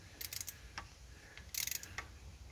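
A 1/4 inch ratchet loosens water pump bolts on a W123 diesel, giving two quick clusters of fine close clicks with single ticks between, crisp and quiet in a calm workshop.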